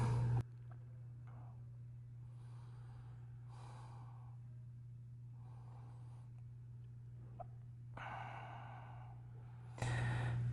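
Slow, deep yoga breathing in a quiet room, several soft inhales and exhales spaced a few seconds apart over a steady low hum.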